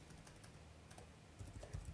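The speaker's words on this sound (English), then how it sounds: "Bear with me one sec. I'm typing this out." Quiet rapid typing on a computer keyboard, soft irregular clicks continuing alone and growing a little busier near the end.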